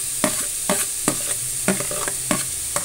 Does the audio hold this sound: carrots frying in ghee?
yes